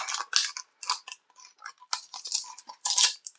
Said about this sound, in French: Donc j'ai fait péter le carton pour faire bien.